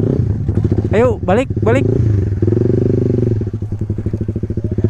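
A motorcycle engine runs steadily and close by, its regular low throb continuing under excited talk and shouting from several people.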